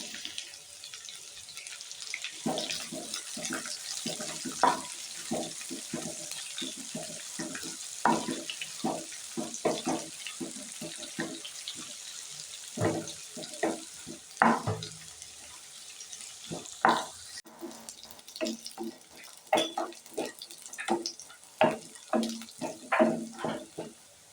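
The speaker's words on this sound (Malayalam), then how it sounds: "ഇതൊന്ന് ഫ്രൈ ആയി വരുമ്പോൾ നീളത്തിലരിഞ്ഞ 2 മീഡിയം സൈസ് സവാള ഇട്ട് കൊടുക്കാം." Two medium onions, sliced lengthwise, frying in a pan of oil for onion rice, giving a steady close sizzle with irregular crackles and pops while stirring, and no talking.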